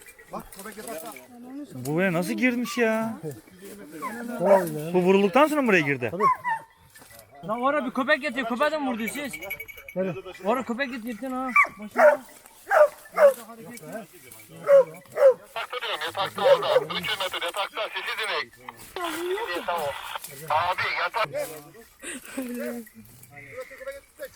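Dogs bark and yelp repeatedly at close range during a wild boar hunt, mixed with people talking over them throughout.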